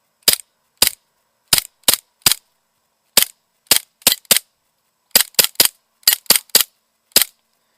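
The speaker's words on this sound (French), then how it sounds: "je vous fais un plan comme ça juste pour vous montrer comment que ça tire" A PPT99 Taurus airsoft replica pistol fires in semi-automatic, fifteen or so sharp, loud snapping shots alone, in irregular bursts of singles, doubles and quick triplets.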